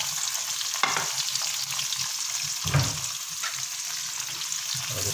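Onions sizzle and fry in hot oil with okra, stirred steadily, with the scrape of a spoon through the pan at several points over a continuous loud hiss.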